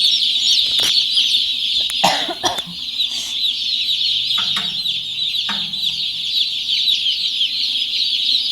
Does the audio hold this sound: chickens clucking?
yes